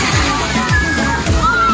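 Splashing water at Talao Talao Beach in Lucena, Quezon as someone jumps in: repeated close sloshes and splatters over a short burst, with background voices.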